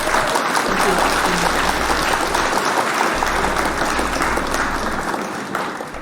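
A sustained round of clapping plays as an applause effect on a live local morning news show, dense and even throughout before easing off slightly at the end.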